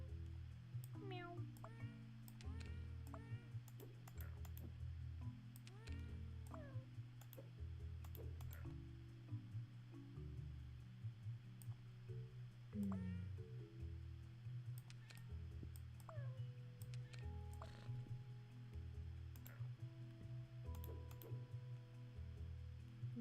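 Several meows from a cat, short rising and falling calls spaced through the stretch, some overlapping, heard over a steady low hum with faint clicks.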